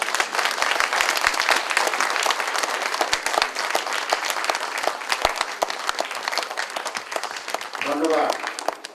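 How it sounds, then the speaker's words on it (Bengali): A seated audience at a Kazi Nazrul Islam birth anniversary event claps loudly and continuously for the radio's sound soldiers, a dense steady roar of hands that thins slightly near the end as a voice begins. "এবং করতালির মাধ্যমে"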